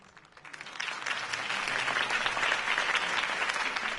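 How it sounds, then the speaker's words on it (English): Applause from a crowd after a speech in the video game Batman: The Telltale Series swells in and holds steady, a rush of clapping at moderate volume with no speech on top. "If only Mr. Wayne, my campaign's largest backer, could have heard that applause"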